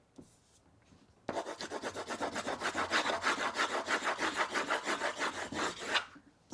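Charcoal is rubbed back and forth across paper in quick, even strokes, a rhythmic scratchy swishing that starts abruptly after a brief quiet and continues close-up for several seconds, with no voices.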